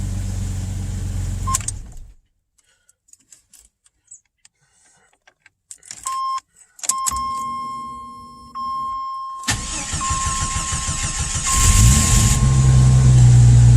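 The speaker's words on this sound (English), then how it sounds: "I'm going to turn it off and see if it starts by itself without the battery charger being hooked up." A Jeep or Chevy engine cold-starts in fall weather with no battery charger connected: after a quiet stretch, a brief starter crank catches into a steady idle with a whining tone, and a louder surge of engine noise follows near the end.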